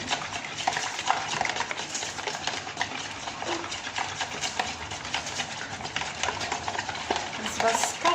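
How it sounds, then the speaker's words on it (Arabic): Two eggs being whisked with sugar in a bowl, a fast, steady rhythmic beating with light clinks of the whisk, close up and continuous for several seconds. "غنطرب هاد جوج بيضات مع السنيده"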